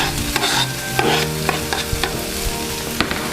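Roasted red peppers sautéing in a hot pan, a soft continuous sizzle broken by several sharp scrapes and stirs of a utensil, close and alone.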